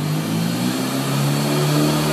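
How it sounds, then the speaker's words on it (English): A Tennant 8210 commercial one-man ride-on floor sweeper runs with a steady, loud engine drone and low hum, close by and continuous with no talking. "TENNANT 8210 commercial one-man sweeper. It sounds really, really good."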